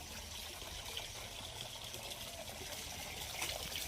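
Water from a village water supply flows steadily, a broad continuous gush and trickle heard faintly, with no voices.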